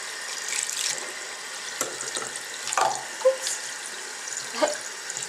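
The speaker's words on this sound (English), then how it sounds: "set it up like this so that the water will go down the bristles and not go up into the wood" Tap water running over the bristles of a makeup brush at a sink, a soft continuous trickle with faint splashes and small handling clicks, quiet and close.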